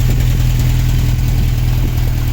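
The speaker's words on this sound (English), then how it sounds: "There's that leaky exhaust again." A 1992 Toyota 4Runner with the 22RE engine idles nearby with a leaky exhaust, a loud steady low rumble with a regular putter and no talking.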